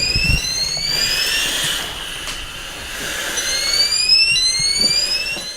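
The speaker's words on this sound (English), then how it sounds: "Something sets off the detector." A chemical detector alarm in a weapons lab sounds a series of rising electronic tones that repeat over a steady background hum, fairly loud and with no talking.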